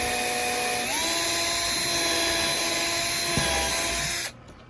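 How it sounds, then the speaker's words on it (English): A power drill whines steadily at high pitch while pre-drilling a screw hole in a wooden shed door, close and loud, then winds down and stops abruptly near the end. "we're going to pre-drill this one"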